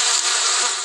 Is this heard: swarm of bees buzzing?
yes